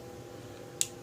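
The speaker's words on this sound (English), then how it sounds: "Flip up headlights." A toy robot car's small plastic flip-up headlight snaps open with a single sharp, close click over a quiet background.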